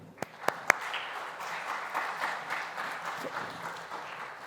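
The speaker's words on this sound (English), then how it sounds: "A big round of applause." Audience applause after a panel discussion on the future of work in wealth management at a financial conference, a steady, moderately loud wash of many hands clapping across the room, with a few sharper claps at the start.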